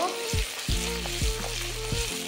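Onion and garlic paste frying together in a pan, a steady bright sizzle with a few soft thumps and stirring scrapes, close and continuous with no talking.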